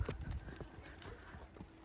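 A horse walks on a trail, its hooves giving faint, irregular clip-clop thuds at close range over a soft outdoor background.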